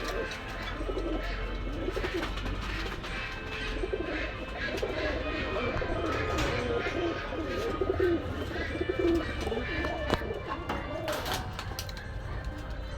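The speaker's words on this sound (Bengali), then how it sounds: "এই এক পেয়ার পাকিস্তানের রামপুরি কবুতর আছে খুব সুন্দর ভাইব্রেট কবুতর" Several Pakistani Rampuri pigeons coo in low, throaty rolling calls close by at a pigeon market, over a busy background with some voices and rustling.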